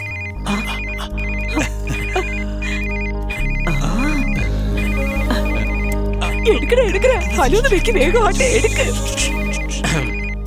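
A phone ringtone chirps in a repeating pattern, loud and close, with melodic voices and other tones running underneath.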